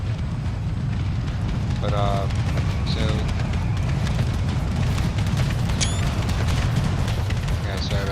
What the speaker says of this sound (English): I'm bombing them as much as I can with artillery